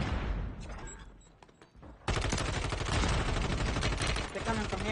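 Rapid bursts of automatic gunfire crackle through a shooter video game, fading to scattered shots before a loud, sustained volley erupts and rattles on to the end.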